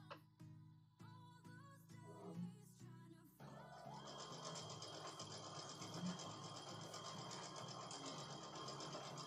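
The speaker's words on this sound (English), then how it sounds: "we're just sewing a bunch of strips up together here" A sewing machine stitching fabric strips together runs in short start-stop bursts at first, then settles into a long continuous whirring run, close and steady with no voices.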